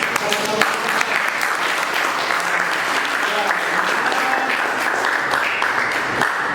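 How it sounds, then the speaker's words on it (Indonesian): Sustained, fairly loud audience applause for student presenters at an education research session, a continuous wash of many hands clapping with a few voices mixed in. "Kita beri tepuk tangan dulu"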